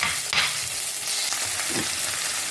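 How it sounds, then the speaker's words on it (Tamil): Onion and tomato sautéing in a pan for a lady's finger tamarind kuzhambu, a steady close sizzle and crackle of frying with a few stirring scrapes and knocks. "வெங்காயத்தை போட்டு இப்போது ஒரு தக்காளியை கட் பண்ணதை இனி போட்டு கொஞ்சம் நல்லா வதக்கிக்குவோம்"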